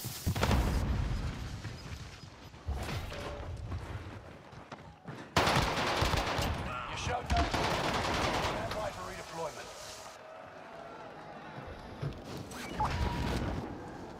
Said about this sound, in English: Gloss, there's a fucking cluster strike hitting us.